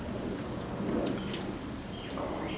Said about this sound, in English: The rain got kind of hard this morning.